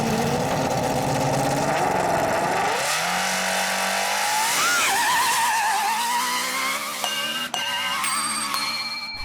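A Lexus LFA's exhaust note, loud and continuous, a high buzzing engine tone that climbs and falls as the revs change, with sharp shifts near the end.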